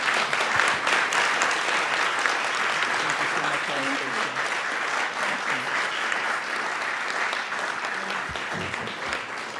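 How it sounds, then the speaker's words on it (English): Sustained, dense applause from an audience fills the room for a speaker at the National Press Club, loud and even throughout with no break. "how about a round of applause for our speaker?"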